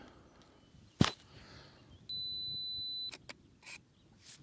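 On a midsummer landscape shoot, a Fujifilm GFX50R's two-second self-timer gives one steady high-pitched beep lasting about a second. It follows a sharp click and comes before a few brief mechanical clicks, with faint outdoor ambience behind.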